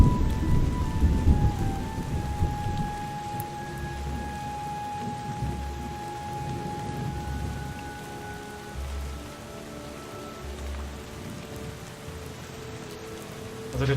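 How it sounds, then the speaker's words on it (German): Heavy rain pours steadily in the video game Drizzlepath while low thunder rumbles in several rolling waves underneath, with no voices. "Und jetzt regnet es noch stärker"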